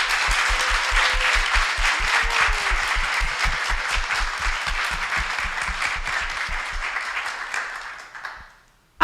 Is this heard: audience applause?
yes